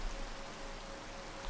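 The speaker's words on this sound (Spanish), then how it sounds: "A llover, cómo no, a llover otra vez." Rain falls in the Minecraft video game as a soft, steady hiss of drops, faint and even throughout with no voices over it.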